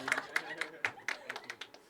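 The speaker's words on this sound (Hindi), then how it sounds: "अभी बहुत तालियां" Scattered hand claps from a small audience at a poetry open mic at The Habitat, sparse and uneven rather than a full ovation, sounding moderately close in a room.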